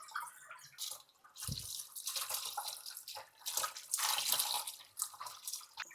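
Grape juice running out of a white-wine press hopper, with uneven trickling, splashing liquid close by, plus a few drips and one brief low knock.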